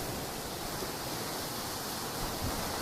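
A steady, broad wash of Black Sea surf at Hamsilos, Sinop, rolls on without pause, with constant hissing noise and no distinct breaks or voices.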